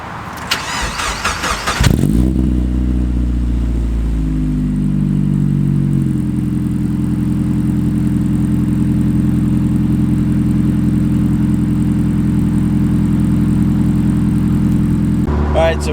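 A Mazda Miata engine with an aftermarket ISR exhaust cranks briefly on a cold start, then catches and roars to life, settling into a loud, deep idle through the throaty exhaust.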